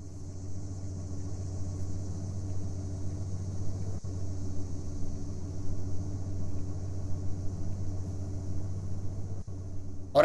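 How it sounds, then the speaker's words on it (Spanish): A car drives in the horror video game Demonic Soul, a steady low engine drone with a faint high whine above it, moderately loud and continuous, with a couple of brief clicks. "Ahora es el muñeco quien conduce el coche."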